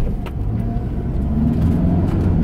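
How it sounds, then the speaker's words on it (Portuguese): A car engine rumbles steadily while driving slowly over a speed bump, with low, close road and engine noise and a few faint knocks, and no talking. "Ó, vamos cruzar o quebra-mola."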